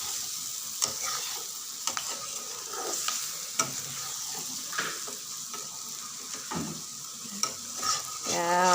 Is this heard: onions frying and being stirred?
yes